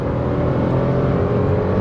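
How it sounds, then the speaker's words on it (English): A Citroen C3 Aircross seven-seater SUV with a turbo petrol engine revs in a steady, loud, sustained drone with a low humming tone throughout. "It sounds well when you rev the car."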